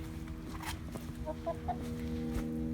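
Soft chicken clucks from birds in a chicken tractor sound faintly over a steady low hum, a few brief calls scattered through the short stretch.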